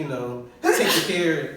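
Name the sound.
sneeze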